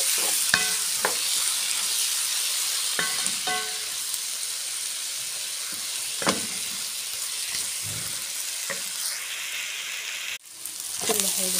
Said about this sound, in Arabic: هقلبهم كويس